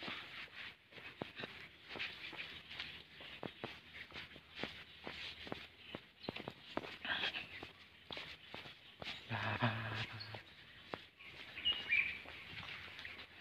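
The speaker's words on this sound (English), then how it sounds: "Yes, the bird sounds." Birds chirp in short, scattered calls at a distance in a forest in the morning, mixed with faint shuffling footsteps in a quiet setting.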